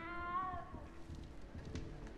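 A cat meows in the video game Hogwarts Legacy, one drawn-out, slightly falling cry up close, followed by quieter game ambience and faint rustling.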